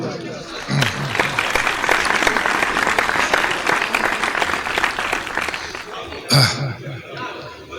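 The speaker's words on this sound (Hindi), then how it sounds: "भाई ताली बजाते रहो" Audience applause at a mushaira during an Independence Day celebration in Khatauli, Muzaffarnagar, with steady dense clapping sustained for several seconds, a brief lull, then a renewed burst near the end, with a voice talking over it.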